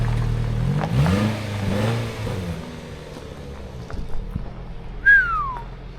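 Engine of a dune buggy rig revving a few times, rising and falling in pitch at close range, followed by a brief high whistling whine near the end, with no talk.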